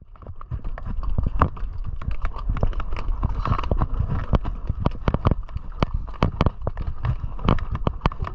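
Horse hooves clopping on rock in an uneven, steady walk up a steep rocky trail in the Sahara, with scraping and crunching underfoot and constant wind or movement noise around it.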